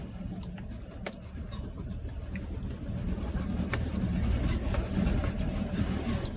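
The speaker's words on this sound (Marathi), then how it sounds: "आता दनादन टनाटन उडी मारीत जाते या कातळावरनं गाडी" A car bouncing hard over a rocky laterite track in rain, its rumble and repeated jolts and clatters continuous and fairly close, with no talk.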